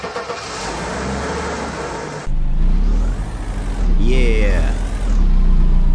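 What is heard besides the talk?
car engine revving as car is moved, video game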